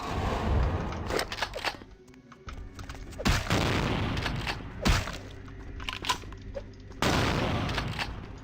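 Gunfire in the video game Vampire the Masquerade Bloodlines, a series of heavy booming shots and cracks spaced a second or so apart over a dull background, with no speech.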